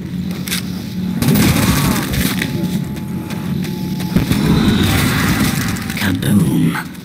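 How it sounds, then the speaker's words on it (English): Big explosion in Call of Duty World at War, with a heavy burst and crackling debris amid ongoing battle noise, sharp bangs and rumbling through the clip, loud and close, with some voices mixed in. "Kaboom. Big explosion."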